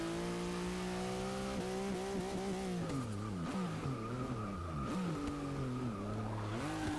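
A 1963 Volkswagen Beetle in the racing game Forza 6 brakes hard from about 130 mph, its engine note dropping and shifting as tyres squeal and skid, loud and close with no talk.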